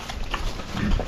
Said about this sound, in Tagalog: Diba, ganyan pala kumakain ng baboy. Baboy nga sila maingay yung kumain